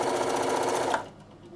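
A domestic sewing machine runs steadily, stitching forward and then reverse over fabric at close range, a dense continuous whir that cuts off after about a second into near quiet.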